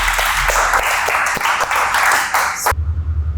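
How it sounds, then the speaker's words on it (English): Clapping from an audience welcoming a participant at a public speaking practice session, a dense burst of applause that runs for under three seconds and then stops abruptly. "A great clapping for him, everyone."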